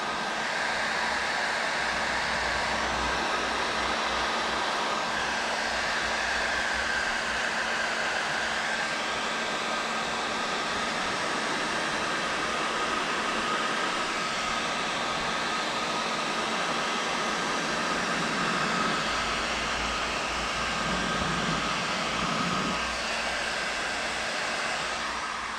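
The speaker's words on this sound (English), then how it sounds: "get this locked into place with the heat gun" A heat gun warms clear paint protection film on a car's front fender, giving a steady, loud blowing whoosh that holds unbroken throughout with no talking.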